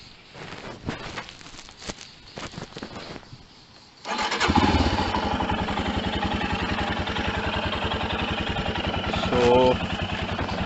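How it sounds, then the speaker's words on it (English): A Royal Enfield Himalayan BS6 motorcycle engine starts after a few seconds of quiet clatter, then settles into a steady, loud idle with a rapid, even throb. "We just fire the engine."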